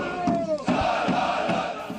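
Spain football fans in red and yellow jerseys crowd a Dallas street, a loud dense mass of cheering and chanting voices with rhythmic shouted bursts, close and continuous.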